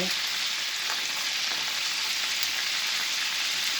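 Butter sizzling hot in a pan with a beef steak and garlic cloves, a loud, continuous frying hiss and crackle close by, heard on its own without talk.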